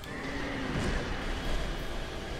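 A horse in Dark Souls 2 neighs amid dense, loud game noise, the whinny rising through a thick rumbling wash with a few hoof sounds.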